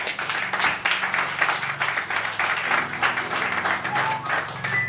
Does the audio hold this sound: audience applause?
yes